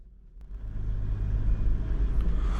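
Toyota Land Cruiser 100 HDJ driving over a stony road in abandoned mountains, a steady low engine and tyre rumble that builds after a short start and holds loud and close, with faint knocks from the rough surface.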